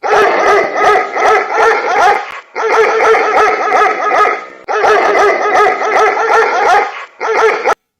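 A dog named in Ukrainian banter barks in rapid, loud bursts, four clusters of sharp repeated barks separated by short pauses, close to the microphone with no talk over it.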